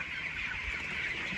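Broiler chickens at about 18 days old on a poultry farm make a continuous faint clucking chatter with farm background noise.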